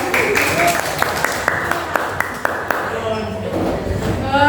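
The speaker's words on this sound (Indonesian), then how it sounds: "Tepuk tangan." Audience applauding at a Sundanese school class performance, a brief burst of scattered clapping mixed with talk from the room before it fades out.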